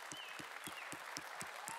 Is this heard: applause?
yes